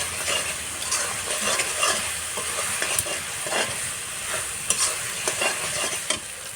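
Spice paste for a rita fish curry stirred and fried in hot oil, a steady close sizzle with repeated spoon scrapes and clinks against the pan throughout, no voices.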